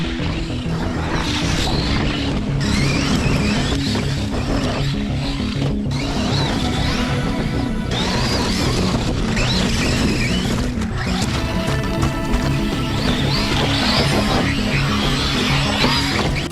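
An Outcast RC car, fitted with a brushless motor setup, runs hard and takes a beating, with a steady loud motor whine, rattling chassis and repeated impacts and crashes throughout, with no talking.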